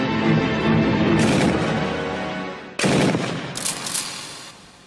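Kord 12.7 mm heavy machine gun firing sustained loud bursts outdoors, a dense continuous rattle of shots that breaks off briefly and then resumes at full intensity.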